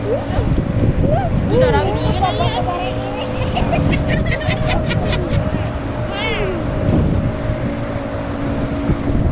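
A speedboat cruises across Lake Diatas at Alahan Panjang in West Sumatra, its engine droning steadily under wind buffeting while adults and a child chat over the motor.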